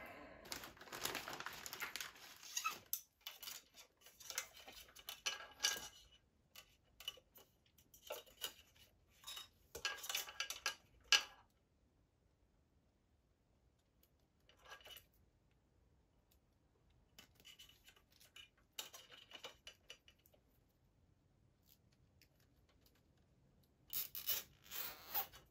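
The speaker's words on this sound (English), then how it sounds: "I say we would benefit from zip tying these right here." Plastic zip ties being fastened around guitar pedalboard cables, a series of quiet, close ratcheting and crinkling bursts separated by silent pauses, with more zipping near the end.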